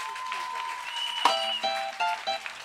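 A church congregation applauds in steady, moderately loud clapping, with sustained organ-like tones and a few short louder bursts running through it.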